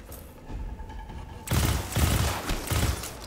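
Sci-fi combat in the Destiny 2 video game: a grenade goes off, followed by heavy, close bursts of gunfire and thudding explosions in quick succession.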